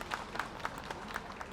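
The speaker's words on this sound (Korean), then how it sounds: "박수 한번 보내주시기 바랍니다." Sparse, faint hand claps at a memorial ceremony, a handful of separate claps at a steady, unhurried pace, heard from a distance in a quiet hall.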